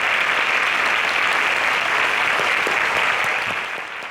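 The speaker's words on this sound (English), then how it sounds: "A round of applause for them." Studio audience at a televised quiz show grand finale breaks into loud, dense applause, sustained clapping close up that fades slightly at the end.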